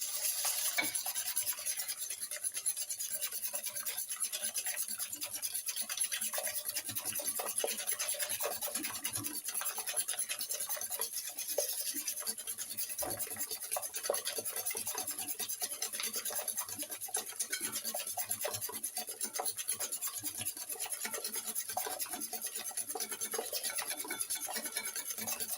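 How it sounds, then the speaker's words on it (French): Batter for a French pineapple cake stirred by hand into sugar in a bowl, a quiet continuous scraping and rubbing of the utensil against the bowl, close and without talk. "Nous allons mélanger cette préparation."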